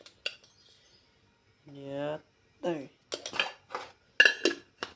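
A metal spoon clinks several quick times against a steel pot on a gas stove as tea leaves go in, after a short stretch of speech.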